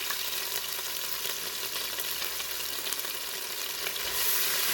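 Chopped garlic, ginger and green chilies sizzle steadily in hot oil with black cumin in a pan for moong masoor dal, a dense continuous frying hiss that swells slightly toward the end, with no talking.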